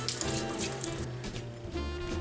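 Tap water runs steadily into a kitchen sink while dishes are rinsed, a continuous close splashing hiss with some clatter underneath and no voices.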